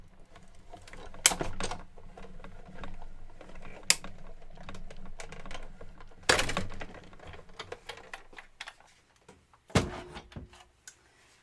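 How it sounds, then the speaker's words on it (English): Paper and edgelet dies with a cutting pad are cranked through a die-cutting machine, producing a steady run of ratcheting clicks and gear rattle punctuated by several sharp, loud thumps spaced a few seconds apart. "put a cutting pad on top and crank that through"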